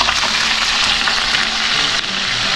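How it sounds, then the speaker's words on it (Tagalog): A large samaral fish fries in hot oil in a pan, a loud, steady close-up sizzle and crackle with no voices. "Tapos nilagyan na rin natin ng mantika, mainit na. Prito na natin ito."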